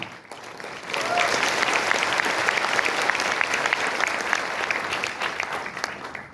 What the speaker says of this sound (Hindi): मेरे अपलाइन के लिए ताली कम है।